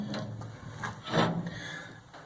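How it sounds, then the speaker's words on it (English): A metal shelf being lifted out of a home-built reverse flow smoker gives faint scraping, rubbing and knocking sounds over a couple of seconds, heard close with no talking. "let's see if I can take this shelf out for a second"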